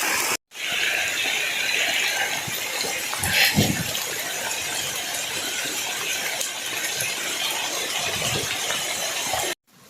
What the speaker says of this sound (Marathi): तर आता धबधब्याचा आवाज यायला सुरुवात झाली.